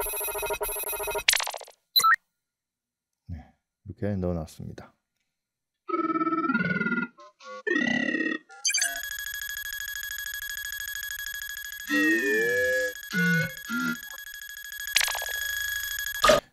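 Computer beep effects sound as lines of text appear on screen, short electronic tones and buzzy bursts scattered among spoken commentary, with a longer sustained beep tone running under a voice partway through.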